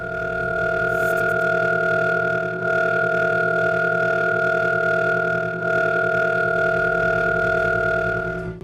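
A steady, eerie electronic drone of layered sustained tones, a sonification of the Cat's Eye nebula, loud and unchanging, with faint swells and small dips throughout.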